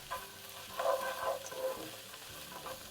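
Onions, ginger and cashew nuts cooking in a pan over medium heat, a soft low sizzle with a brief scrape of stirring, quiet and close.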